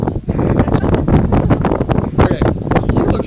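Strong wind buffets the microphone on a windy mountain top, a loud, continuous gusting roar with fluctuating rumble and no pauses.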